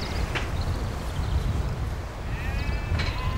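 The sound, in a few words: sheep bleating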